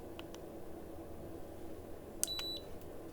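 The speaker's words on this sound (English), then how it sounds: "You'll hear a beep again." A few faint, short electronic beeps sound from a wrist-mounted laser device over a low steady hum in a quiet room.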